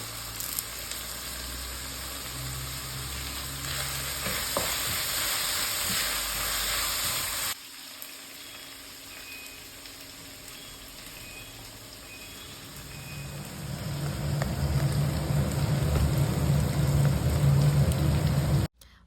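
Onions and curry leaves sautéing in a pan for beef curry give a steady sizzle and crackle that fades mid-way, then swells louder again toward the end.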